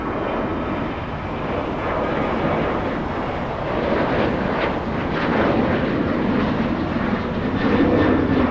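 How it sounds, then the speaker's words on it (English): DHL cargo Boeing 777 with GE90 engines landing at Los Angeles International Airport, a loud sustained roar of jet engines rising slightly as it nears, heard outdoors with some wind noise. "Now we go to the 777 powered by GE90s, landing in just a few seconds"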